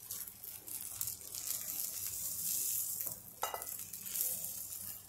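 Roasted broken rice tipped into a hot onion tempering for upma, giving a close, hissing sizzle that swells and surges as the grains hit the oil, with faint stirring and no voices.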